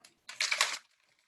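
A brief burst of rattling, like ice shaken hard in a cocktail shaker while mixing a mocktail, lasting under a second with quiet before and after.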